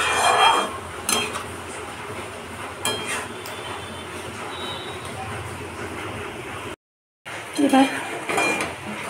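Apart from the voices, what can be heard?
stirring lote fish in a pan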